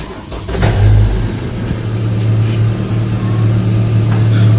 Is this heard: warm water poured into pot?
no